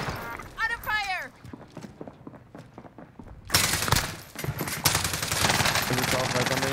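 Gunfire in Call of Duty Warzone: scattered shots and a voice early on, then loud, dense bursts of automatic fire with impacts close by, continuing to the end.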